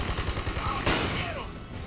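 Rapid bursts of auto shotgun fire in the co-op shooter video game Army of Two: The Devil's Cartel, loud, dense blasts packed closely together over game background noise.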